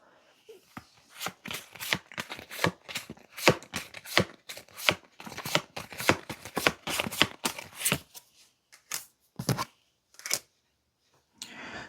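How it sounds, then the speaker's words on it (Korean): Tarot colour cards being handled and drawn from a deck, a long run of sharp close clicks and snaps that slows and thins out toward the end, with no talking. "마지막으로 색상 카드 2장을 뽑아보고 당신의 매력을 조금 더 세세하게 봐보도록 하겠습니다"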